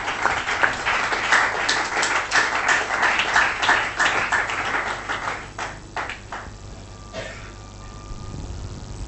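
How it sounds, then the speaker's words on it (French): A church congregation applauds, a dense burst of rhythmic clapping that is loud at first and then thins out and fades over several seconds, with a low steady hum underneath. "Applaudissons le Seigneur pour cela."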